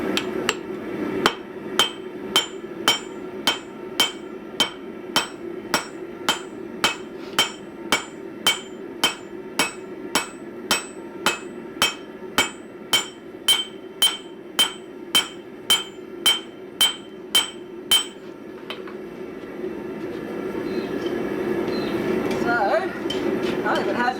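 Steady, evenly spaced hammer blows ring out on hot steel as welds are blended on a forged anvil block, about thirty sharp metallic strikes in a row followed by a quieter stretch of shop noise.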